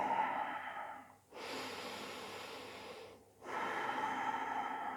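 Slow, deep breaths taken while holding a plank pose in a yoga class, a long exhale, a pause, then another steady breath, close and fairly quiet with no talking.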